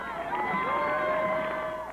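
Cheering crowd lining the Seward streets in Alaska as mountain runners finish behind a police car, a steady dense roar of many voices with sustained shouts and whoops, fairly loud and continuous throughout.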